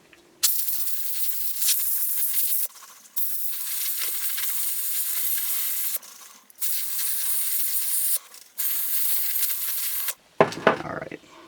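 Compressed air blasts into a fidget spinner bearing in four long hissing bursts with short gaps between them, loud and close, ending with a brief rattle.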